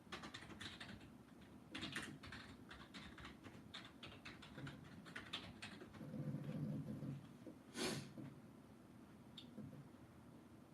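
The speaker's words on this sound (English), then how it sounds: "So if you hear any clicking, that's going to be my keyboard." Computer keyboard being typed on at a desk, a steady stream of light, quick clicks and clacks at moderate closeness, with a few louder bursts and a brief heavier thump partway through; no voices.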